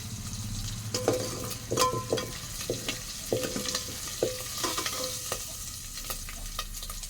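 Raw prawns fry in a masala base while a spoon stirs the pan, giving a steady close sizzle broken by repeated scraping and clinking strokes, with no talking.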